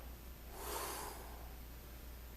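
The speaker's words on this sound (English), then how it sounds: "Breathing out." A single soft, breathy exhale during a hammer curl exercise, rising and fading over about a second, close but quiet, against a low steady hum.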